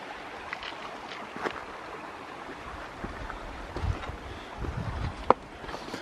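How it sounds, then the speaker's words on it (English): A small forest creek in Bankhead National Forest, Alabama, flows over rocky karst ground with a soft, steady wash of running water, partly blurred by light wind buffeting the microphone and a few faint knocks. "A beautiful little section of the creek."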